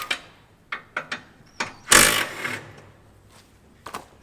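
Bolts being removed from a grain cart wedge kit, with a series of sharp metallic clicks and clanks and one louder rattling burst in the middle, close by.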